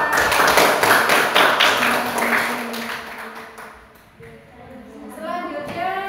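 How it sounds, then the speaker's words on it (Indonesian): A crowd claps together in a brief burst of applause that fades out, followed by a few voices talking. "Tepuk tangan untuk Mbak Okta."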